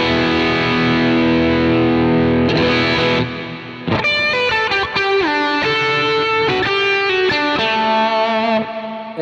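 Electric guitar run through a Boss effect on a Headrush Prime with the amp driven harder, heavily distorted sustained chords and then a string of choppy, stabbed notes, loud and alone.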